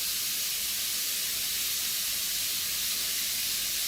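Ground garlic paste hits a hot pan with a steady, loud hiss of frying that holds evenly throughout without pause.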